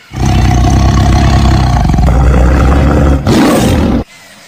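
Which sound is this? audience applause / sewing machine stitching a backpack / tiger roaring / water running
tiger roaring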